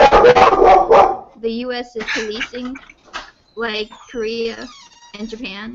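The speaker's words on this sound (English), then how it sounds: "That's my dog," A dog barks in a rapid burst of loud, close yaps at the start, then a person talks steadily afterward with the room otherwise quiet.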